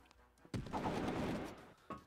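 Gunfire in the online shooter CrossFire: a sudden loud burst of rapid shots lasting over a second, followed by a quieter lone shot.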